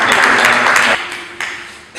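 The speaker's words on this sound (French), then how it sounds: "Acclamations, mesdames et messieurs" An audience at a book launch applauds loudly for about a second, then the clapping thins into scattered claps and a few taps before fading.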